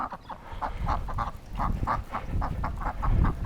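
Repeated nasal duck quacks from a sound effect, about a dozen short honking calls in an uneven rhythm over a rumbling low background, fairly close and clear.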